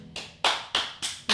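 Five sharp hand claps from one person, spaced unevenly and close up, each a crisp snap with a short decay, no talk.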